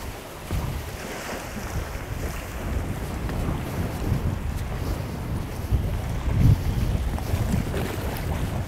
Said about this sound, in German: Oh, ist das windig.